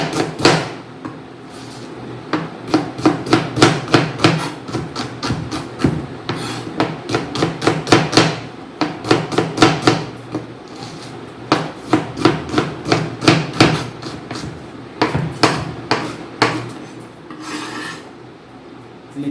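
Rapid, steady knife chopping through an onion on a board, sharp repeated taps in quick bursts with brief pauses, close and fairly loud.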